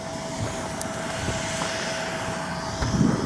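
At an international airport, a parked airplane runs its auxiliary engines at a distance, giving a steady, broad roar with a faint whine that swells slightly near the end.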